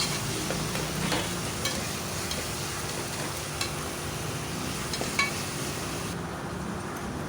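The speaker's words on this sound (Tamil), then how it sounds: "இஞ்சி பூண்டு பேஸ்ட்டுங்க போட்டு அதோட பச்சை வாசனை போகிற அளவுக்கு நல்லா வந்து பாயில் பண்ணிக்கலாங்க" Ginger garlic paste frying in a pan, a steady close sizzle with soft stirring scrapes throughout, no voices.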